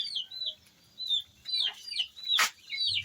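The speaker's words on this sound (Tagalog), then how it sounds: "Yung mga manok dito." Chickens on a small farm cluck and chirp in a run of short, repeated calls, fairly close and clear, with one sharp louder squawk midway and faint background rustling.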